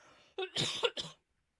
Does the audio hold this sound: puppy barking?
no